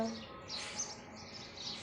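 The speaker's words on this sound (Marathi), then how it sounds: "मस्त असा चिमण्यांचा त्याचा चिवचिवाट वगैरे चाललेला होता" Soft, high morning sparrow chirps twitter faintly in the background over a low steady hum.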